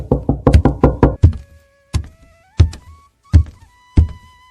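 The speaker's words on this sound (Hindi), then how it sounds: "अचानक दरवाजा खटखटाने की आवाज आती है।" Loud, heavy knocking on a door: a rapid burst of about eight thuds, then four slower, separated bangs with ringing decay between them.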